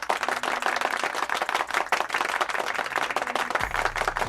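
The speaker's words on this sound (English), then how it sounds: "So he gets a round of applause." A crowd gives a round of applause, dense continuous clapping from many hands throughout, loud and steady.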